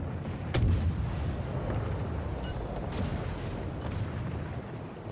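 Naval gunfire in the warship video game War of Warships. A heavy boom opens, then rumbling blasts and cracks roll on over a dense, continuous roar of battle, loud and close, with no talk.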